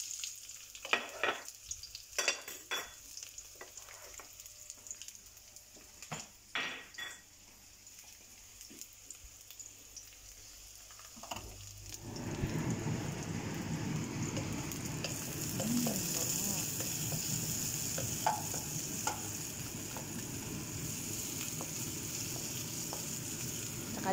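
Onion and garlic sauté in a pan. Scattered clanks and stirring come first, then a loud, continuous sizzle takes over and holds to the end.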